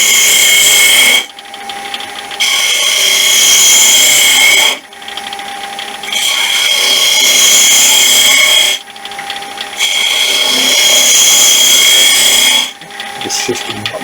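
Wooden honey dipper turning on a lathe, a steady high whirring and rasping of the tool cutting the spinning wood in long passes, broken by three short pauses and a final stop.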